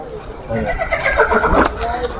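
A horse, a pure Marwari, whinnies loudly and close by at a horse market, a rising and falling call lasting a couple of seconds over background noise.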